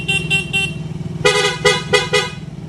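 A Honda TMX 155 motorcycle horn with a rewired electrical setup sounds in two loud bursts of short, rapid toots, close by over a low engine idle.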